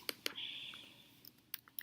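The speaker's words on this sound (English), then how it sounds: "Thank you for not laughing at my typing today." A few sharp keystrokes on a computer keyboard, close and fairly quiet, separated by a soft hiss and followed by several more scattered clicks.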